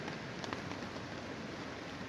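Rain falls at night in the San Gabriel Mountains, a steady, even hiss of drops with no breaks and no voices.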